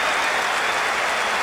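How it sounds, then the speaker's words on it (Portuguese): Video game stadium crowd applause in PES 2007 on PS2 as players leave the pitch at halftime: a dense, continuous wash of clapping and crowd roar, loud and unbroken, with no voices on top. "Muitos aplausos da torcida na saída dos jogadores para o vestiário."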